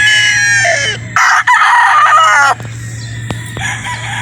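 A sweater-breed gamefowl rooster crows loudly and close by at a Batangas game farm, giving a few strained, harmonic calls separated by short gaps against a low steady background hum.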